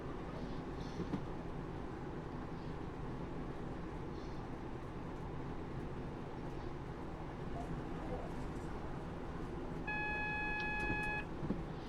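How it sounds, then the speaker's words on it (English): Inside a Class 156 train cab in Train Sim 2019, a brief electronic speed warning beep sounds over the steady low rumble of the moving train, heard near the end of the running cab noise. "That's a speed warning for 50."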